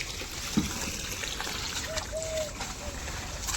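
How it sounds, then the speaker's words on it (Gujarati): Water trickles steadily into a household container, a continuous soft pouring flow with a faint splash, under low indoor background noise and a brief thump. "પાણી ભરાય"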